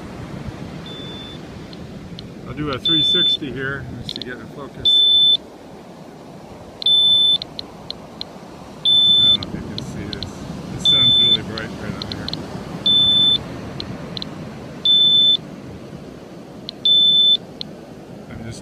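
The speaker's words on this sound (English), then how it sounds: "And here you can hear the detector in the background going off." A radiation detector on a beach emits regular short high-pitched electronic beeps, about every two seconds, moderately loud against wind and background noise, while someone talks over it.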